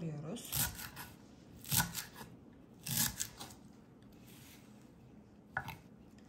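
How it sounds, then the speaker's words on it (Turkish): Parsley cut by hand with a knife on a board while preparing a herbal foot-soak blend: a few separate, crisp chopping strokes spaced about a second apart, fairly close, with quiet room noise between them. "Sonra bir tutam maydanoz alıyoruz. Bunu da böyle doğruyoruz."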